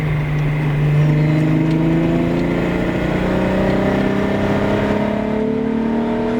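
A VW Golf VR6 engine pulls hard under acceleration, its close, loud six-cylinder note climbing steadily in pitch through a long, unbroken rev.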